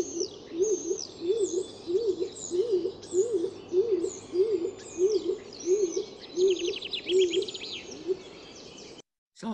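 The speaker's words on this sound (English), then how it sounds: "It does sound like a pigeon or a dove, because it is." A pigeon or dove coos in a steady repeating phrase, clear and fairly close, with other garden birds chirping and trilling higher above it, then a brief silence at the end.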